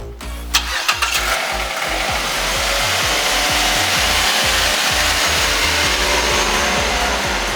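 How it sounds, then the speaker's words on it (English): A rebuilt, once-totaled auction car engine cranks with a few rhythmic starter pulses, catches, then settles into a loud, steady idle close by. "First turn on, let's see if it cranks and goes."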